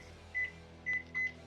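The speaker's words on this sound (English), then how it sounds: "I'm going to put my chocolate in the microwave for 30-second increments and get that melted down" A microwave oven hums steadily while melting chocolate, and three short, high electronic beeps sound over the low drone, close by.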